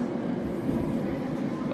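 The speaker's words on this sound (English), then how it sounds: "I think our train is coming." A train pulling into a station in Japan, with a steady low rumble of wheels and carriage noise throughout, close and continuous.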